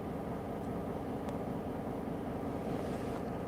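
Steady rumble of trains at a rail yard at night, a continuous low mechanical drone with distant clanks, heard alone without voices.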